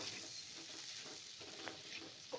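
Roasted corn chaat is stirred in a kadhai, a soft continuous sizzle with faint scraping strokes, quiet and close, with no talking.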